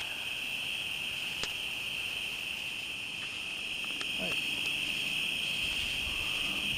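Crickets chirp at night beside a small campfire, forming a steady, unbroken high trill through the whole stretch, with a few faint clicks and rustles nearby.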